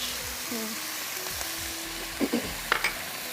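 Onions and bell peppers fry in a karahi with a steady close sizzle, while a few brief clinks and stirring knocks come near the end.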